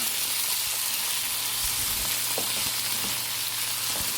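Tomatoes with a pinch of salt sauté in a pan for chutney, giving a constant close frying hiss with a low steady hum beneath and a few faint stirring knocks, no voices present.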